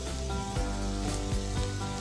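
Boiled rice goes into a hot pan with egg and soy sauce for egg fried rice, giving a steady close sizzle with a few soft scraping stirs.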